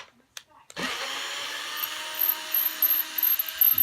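A power tool whirs steadily as it backs screws out of a Squier Bullet Telecaster pickguard. A short clatter comes first, then a continuous motor drone with slight wavering pitch.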